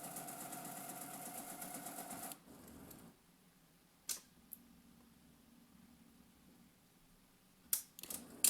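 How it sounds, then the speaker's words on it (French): An inkjet printer runs a cleaning cycle with a dense, busy mechanical whirring and clicking for the first couple of seconds, then falls quiet with a low hum, broken by a few sharp clicks and clacks near the end. "Bon, l'imprimante a décidé de faire un nettoyage."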